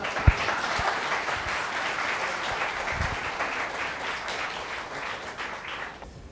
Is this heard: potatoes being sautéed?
no